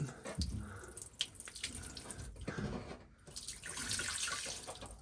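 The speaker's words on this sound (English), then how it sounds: "you can see there's going to be water coming up through here as I open that up" Water rushing up through an opened boat valve while a boat is winterized, a steady splashing, gurgling flow like a running tap, close and fairly loud, with no talking.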